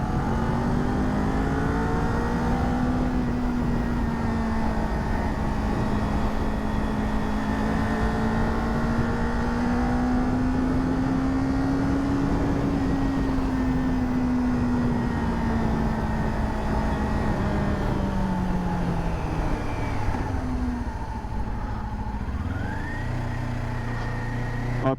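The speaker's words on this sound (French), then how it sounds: "Histoire d'écouter un peu le bruit du moteur." A Kawasaki Ninja 400 motorcycle engine drones steadily with shifting pitch as it rides along, revving down near the end; loud and continuous, no talking.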